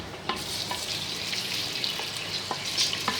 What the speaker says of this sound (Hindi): ये हमारा भुन गया है लहसुन और ज़ीरा। अब हम इसमें चिकन शामिल करते हैं।